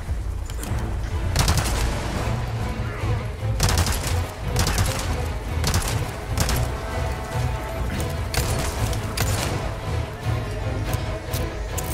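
Gunfire in the video game Resident Evil 4 Remake: loud, repeated bursts of shots at irregular intervals over a steady low rumble, each volley sharp and close.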